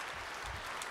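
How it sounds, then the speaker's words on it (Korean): A church congregation breaks into dense, sustained applause, a loud full-room clapping that fills the space evenly with no voices over it. "박수해 주세요"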